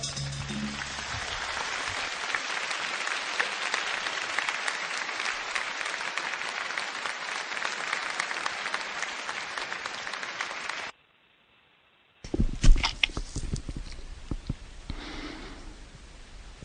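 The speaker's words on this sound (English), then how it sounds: "you give my band a big round of applause?" Sustained clapping from an audience for a live band, steady and fairly loud for about eleven seconds, then cutting off to silence before other sounds resume.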